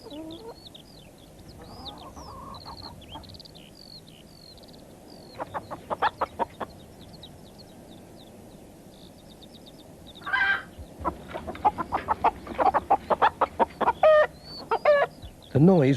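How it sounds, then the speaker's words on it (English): Hens cluck in a farmyard, first with scattered soft calls and chirps, then in busy bursts of repeated clucks toward the end, fairly close and clear over a quiet background. "But Mrs. Thompson's hens were wide awake"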